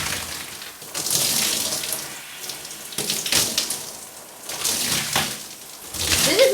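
Tap water runs steadily while shampoo is rinsed out of hair, splashing and swelling in uneven waves as hands move through the stream, close and moderately loud.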